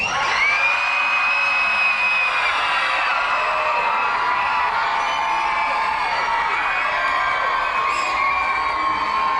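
A large arena crowd at a medieval dinner tournament cheers and screams continuously, high excited voices blending into a loud sustained roar that never lets up.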